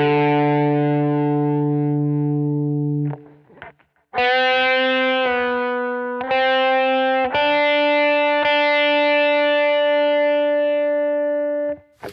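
A distorted electric guitar plays a solo phrase, a long held note, a short pause, then sustained bent notes ringing loudly with a singing tone.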